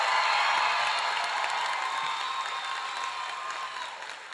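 A large audience at a high school graduation ceremony applauds steadily, dense sustained clapping filling the hall and slowly tapering off toward the end.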